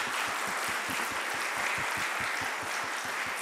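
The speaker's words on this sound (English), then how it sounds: "let's give our experts a big round of applause" An audience applauds the experts at an evening cancer-care question-and-answer event, with steady, dense clapping throughout.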